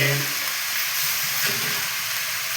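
Rice sizzling and frying in hot ghee in a pan, a steady close crackling hiss with faint stirring, for fried rice.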